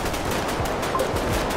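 A rapid stream of automatic gunfire from a GTA 5 gang shootout rattles continuously through a short burst, loud and dense with no pauses.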